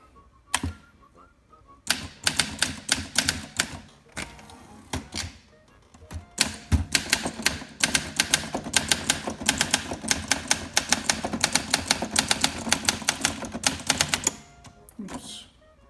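A 1956 Olympia SM3 manual typewriter with a new platen types in fast, sharp bursts of keystrikes on a wobbly table, with short pauses and a carriage bell and return near the end, close and loud.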